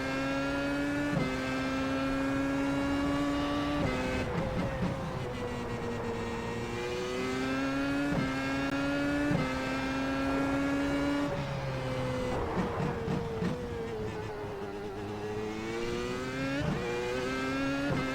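A Williams FW31 Formula 1 car in sim racing, exiting the Acqua Minerale corners, gives a loud, continuous high-revving engine whine that climbs repeatedly and drops sharply at each gear change, with throttle lifts and re-accelerations.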